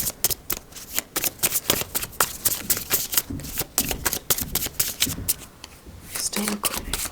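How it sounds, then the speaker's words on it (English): Tarot cards shuffled by hand in quick repeated riffling bursts, crisp and close, with no talking. "I'm going to pull more cards for you and see what happens after this."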